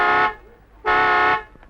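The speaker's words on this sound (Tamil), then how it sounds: "ஹார்ன் அடிச்சு அவளை கூப்பிடுங்களேன் ப்ளீஸ்." A car horn gives two loud, close honks, the first short and the second held longer, with a brief quiet gap between them.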